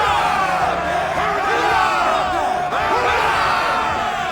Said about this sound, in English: How's about a cheer for the boys, then, eh? Victory for the Aquila!